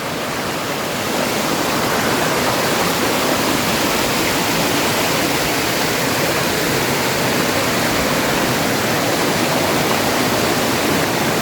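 Kemmanaballi Falls near Jalsoor, Sullia, gives off a steady, loud, broadband roar of falling water that fills the whole stretch evenly, close by, with no voices.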